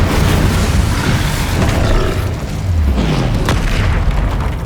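Explosive spell blasts in the video game Hogwarts Legacy during a troll fight, a loud continuous booming roar with deep rumbling impacts and crackling bursts layered over one another.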